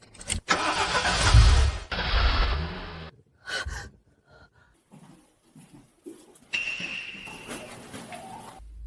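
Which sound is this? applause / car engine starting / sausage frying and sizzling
car engine starting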